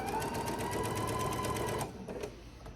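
A sewing machine stitches fabric up to a pin, a fast, even, close mechanical buzz that stops abruptly near the end, leaving a softer trailing sound.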